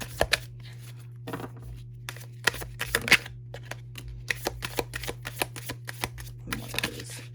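Tarot cards being shuffled by hand, a run of quick crisp riffles and flicks in uneven bursts with a few sharper snaps, close and fairly quiet over a faint steady hum, no talking.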